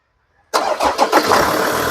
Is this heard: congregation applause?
no